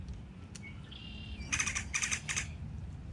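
A great-tailed grackle at White Rock Lake in Dallas, Texas gives a whistled rising note and then a burst of harsh, metallic, rhythmic chirps, close and clear above a low outdoor background.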